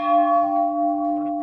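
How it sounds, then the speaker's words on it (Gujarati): A large 25-kilogram temple bell at a Ramapir shrine rings out with one clear, sustained metallic tone that pulses gently as it fades, close and loud. "અહીંથી આ ઘંટોળ આપણે વગાડવાનો છે"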